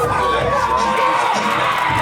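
Crowd cheering in a retro wrestling video game, a continuous loud roar of many voices with whoops, steady and dense across the whole short stretch, with a faint synthetic tone running underneath.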